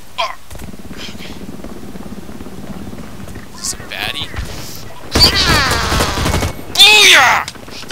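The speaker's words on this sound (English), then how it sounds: "I shoot you in the back" Bursts of gunfire ring out in the shooter game Blacklight Retribution. Loud rattling volleys come late over a steady game-sound bed, and a voice talks throughout.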